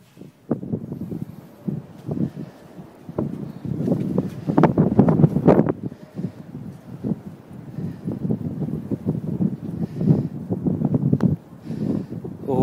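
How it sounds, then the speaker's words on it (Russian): Gusty wind blows outdoors and buffets the microphone, a continuous low rumbling roar that swells and eases in waves, with no one speaking. "Ого, дует."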